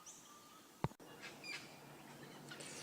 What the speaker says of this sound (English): there's a lot of baby cockatoos in these trees, and they're making the cutest little noises